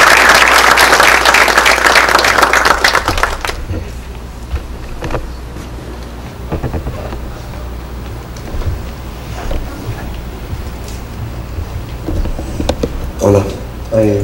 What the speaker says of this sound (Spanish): el ingeniero Edgar Ramírez Pademilla, para el cual solicito un aplauso